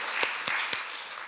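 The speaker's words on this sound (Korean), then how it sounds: "하나님께 영광의 박수 올려드리겠습니다." A congregation claps together during a Sunday worship service in a church, a brief steady burst of many hands with a few sharper individual claps standing out.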